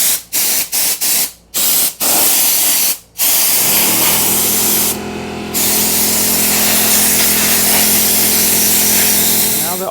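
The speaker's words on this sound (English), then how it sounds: "take an air compressor and take some compressed air and blow out any dust or dirt that may be in here" Compressed air from an air compressor blasts dust out of the inside of an LG TV in a few short bursts, then in one long continuous loud hiss close up.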